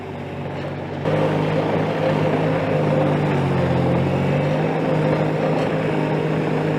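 A Toro Dingo TX1000 skid steer's engine starts droning steadily after a second and holds a loud, even, close-up rumble with slight shifts in pitch, and no talking.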